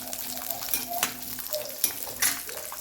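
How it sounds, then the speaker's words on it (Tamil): Small onions soften in oil for a village-style dry fish kulambu, giving off a quiet, close sizzle with occasional utensil scrapes and taps. "பாருங்க இந்த ஆனியன் வதங்கிட்டு இருக்கிறே"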